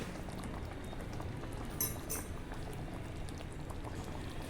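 Sago and vermicelli payasam bubbles in a pot with ghee, a steady close simmering hiss and soft popping of boiling liquid throughout, with a couple of brief sharper clinks.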